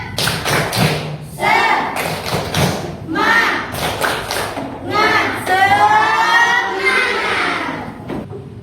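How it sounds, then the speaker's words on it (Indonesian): A classroom ice-breaker of rhythmic 'tepuk semangat' spirit clapping, with a group of children clapping in quick repeated patterns and chanting along in unison throughout. "Tepuk semangat."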